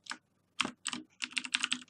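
Rapid keystrokes on a computer keyboard while entering Python code, clicking in short irregular bursts with brief pauses between, close and clear with no talking.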